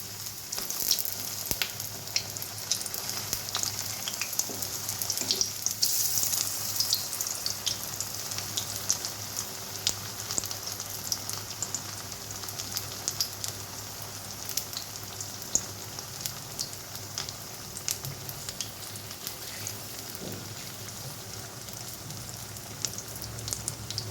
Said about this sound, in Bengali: আস্তে আস্তে একদম উল্টে পাল্টে ভালো করে ভেজে নেব।